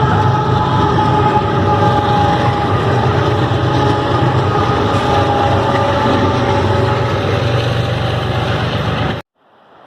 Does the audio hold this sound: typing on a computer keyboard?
no